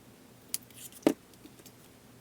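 Scissors cut paper close by, giving two short crisp snips about half a second apart followed by a faint rustle, quiet and with no voices.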